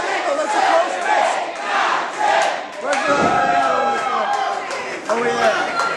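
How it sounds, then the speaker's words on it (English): A wrestling crowd roars and cheers continuously in a packed venue, loud and dense, with surges of shouting and a thud partway through, under excited voices. "The crowd is coming alive"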